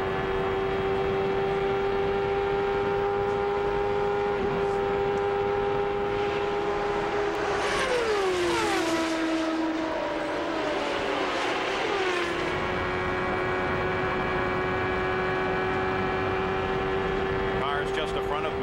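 Onboard a CART race car at the 1993 Michigan 500, the engine screams at a steady high pitch, dips sharply as the throttle lifts, then climbs back to a sustained wail, loud and continuous, with wind roar.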